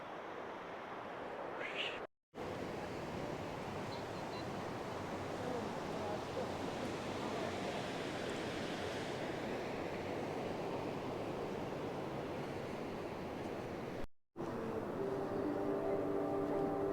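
A river flows under a bridge as a steady, broad rush of water that is loud and continuous throughout, with a brief cut near the start and another near the end.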